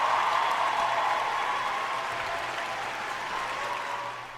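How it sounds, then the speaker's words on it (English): A round of applause follows a shout-out to a coach and a celebrity, a steady even wash of clapping from a crowd that holds for several seconds before easing off slightly at the end, no voices over it. "Round of applause to them"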